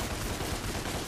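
Rapid video-game gunfire in Devil May Cry rattles loudly and densely for about a second, a continuous burst of overlapping shots with no voice over it.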